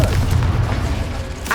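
Bombarda and Confringo spell explosions in Hogwarts Legacy burst loudly, a dense rumbling boom that fills the moment with heavy low-end impact.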